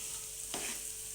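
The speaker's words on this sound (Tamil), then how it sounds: "இப்போ ரவையை கொட்டி நல்லா மொறுன்னு அந்த எண்ணெயிலே பொரியணும்." Semolina fries in hot oil in a pan, a soft continuous sizzle with one brief stirring scrape midway, close but quiet, no voices.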